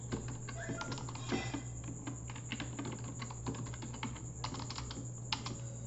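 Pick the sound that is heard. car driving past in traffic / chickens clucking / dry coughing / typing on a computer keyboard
typing on a computer keyboard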